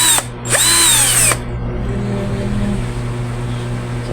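An Ingco power drill loosening a screw, loud and close, whining in two short bursts that ramp down, followed by a low steady hum.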